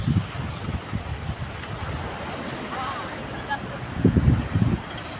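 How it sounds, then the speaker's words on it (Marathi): Surf breaks over two rocks standing in the sea, a constant close hiss of churning water with low wind thumps and a brief louder surge near the end. "त्या खडकांवरती छान फुटत"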